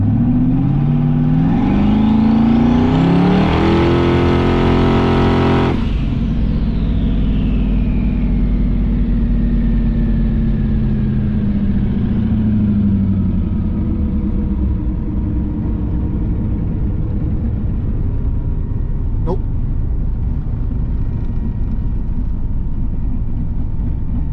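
A turbocharged car with hood stacks and cut-up downpipes revs hard, its note climbing before dropping away. A turbo whine spools down over a steady idle rumble, with one sharp crack late on.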